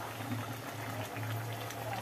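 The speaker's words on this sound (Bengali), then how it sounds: "এইবার টকবক করে ফুটছে।" Steady low bubbling of a fish curry with fried tilapia pieces at a rolling boil in a pot, continuous and close, with a constant hum underneath and no talking.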